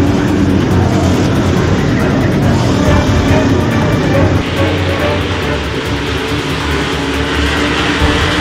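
UK Modified race cars race on an oval track late in the feature, their engines a loud, continuous, dense roar with faint voices beneath.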